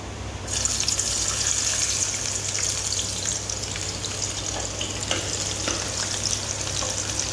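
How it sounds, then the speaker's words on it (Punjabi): Chopped garlic hits hot oil in a pan while a spicy potato curry is being made, giving a steady, close hiss and crackle of frying that starts abruptly and continues alone. "ਤੇਲ ਗਰਮ ਹੋ ਚੁੱਕਿਆ ਹੈ ਹੁਣ ਇਹਦੇ ਵਿੱਚ ਅਸੀਂ ਪਾਵਾਂਗੇ ਲਸਣ"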